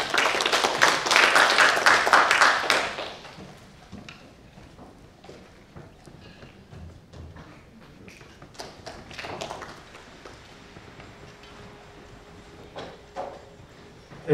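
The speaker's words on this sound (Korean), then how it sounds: "여러분 박수로 부탁드립니다." Symposium audience clapping, a dense burst of applause for about three seconds that cuts off sharply, followed by scattered taps, shuffles and handling noises in a quiet room.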